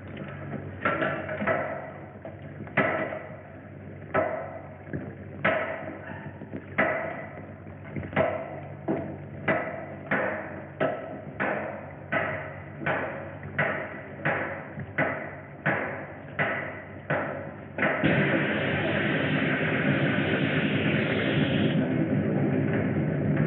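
A series of about twenty sharp, evenly spaced hammer blows breaking into a wall, followed by a steady rushing noise.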